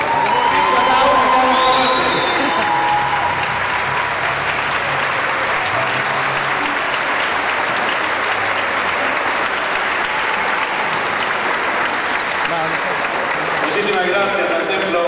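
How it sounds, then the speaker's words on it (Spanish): A large audience in the Temple of the Immaculate Conception of Mary applauds after a fifth-anniversary concert by the 160-musician SINEM Liberia orchestra, loud, dense clapping that holds steady, then thins toward the end, with a voice heard under it. "Repitamos ese aplauso para 160 músicos."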